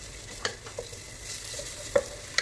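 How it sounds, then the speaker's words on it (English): Onions cook on a medium flame with garlic and ginger paste for prawn biryani, a soft steady sizzle in the pan broken by a few light scrapes and taps of stirring. "Allow these onions to be cooked on medium flame for 2 to 5 minutes."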